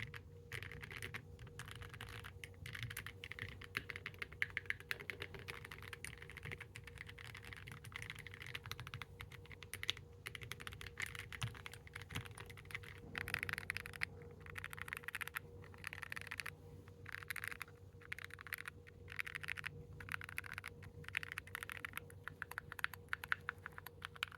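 Rapid clacking of keys on a mechanical keyboard with SA-profile plastic keycaps continues steadily, close and fairly quiet, with a hollow plastic click to each press.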